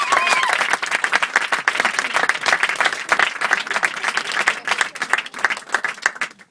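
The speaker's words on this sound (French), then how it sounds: "Et alors, on les applaudit s'il vous plaît." An audience at an improv show breaks into sustained applause, dense steady clapping from a crowd lasting several seconds before fading slightly at the end.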